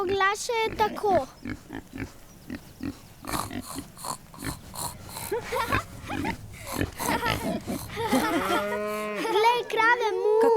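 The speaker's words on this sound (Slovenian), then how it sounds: "Krave delajo mu." Cows and pigs in a children's cartoon call out in quick succession, mooing and oinking among playful voices and effects, ending in a long sustained moo.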